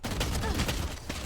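Valorant gunshots crack during a tense round, with a few quick sharp reports close together within a second, set against loud game ambience.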